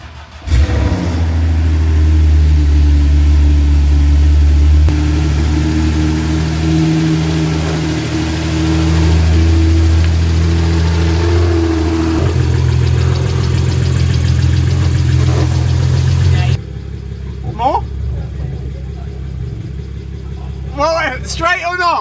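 A car engine idles loudly and shifts through changing revs for most of the clip, then cuts to quieter background as a person speaks near the end.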